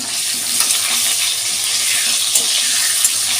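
Potatoes frying in a pan in a home kitchen, a constant bright sizzling hiss with small crackles and pops and no voices.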